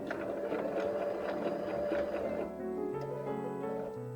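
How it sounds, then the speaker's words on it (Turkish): A Veritas Marie sewing machine stitching a buttonhole, a steady close mechanical whir that shifts to a lower, smoother hum partway through. "Bir miktar burada dikiş yapacağım"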